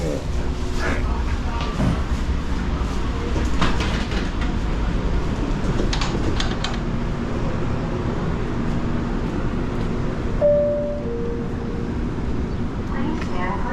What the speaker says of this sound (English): Please stand clear. Doors are closing. Train is about to move.